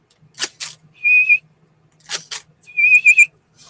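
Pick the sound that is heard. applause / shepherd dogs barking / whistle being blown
whistle being blown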